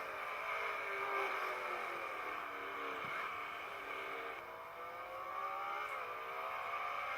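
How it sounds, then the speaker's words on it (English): Race car engines scream around the Sonoma circuit, sustained and droning with pitch sweeping up and down as drivers short shift through the gears, heard at a moderate distance with no talk. "Hearing some unusual changing of shifts. Sounds like some people are short shifting, which is not good."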